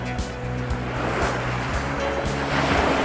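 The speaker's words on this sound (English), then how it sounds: "So as you can hear the waves coming in right now," Waves roll in on a Great Lakes beach, a loud, continuous wash of surf with wind buffeting the microphone and a few low thumps, with no voices.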